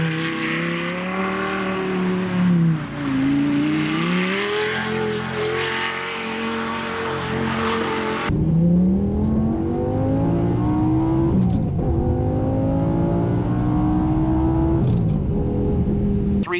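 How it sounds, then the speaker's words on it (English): A Lamborghini engine drones steadily while driving, its pitch rising and falling smoothly with throttle changes, loud and close throughout, with a brief shift partway through and no talk. "It is interesting driving a Lamborghini every day."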